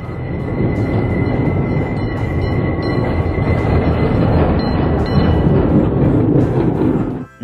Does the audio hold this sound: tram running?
yes